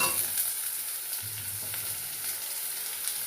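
Potatoes frying in hot oil with chopped onions for a Bengali banana-flower dish, a steady close sizzle with soft stirring scrapes throughout.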